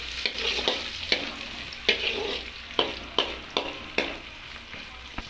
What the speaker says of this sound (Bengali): পেঁয়াজটাকে একটু নেড়ে নিতে হবে